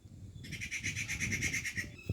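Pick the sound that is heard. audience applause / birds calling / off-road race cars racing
birds calling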